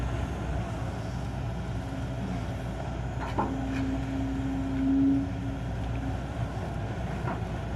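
A Kobelco SK140-11LC excavator with a 4JJ 89-horsepower diesel, fitted with slope wings and digging raised ditches for palm planting, drones steadily at a distance, with a brief whining tone partway through.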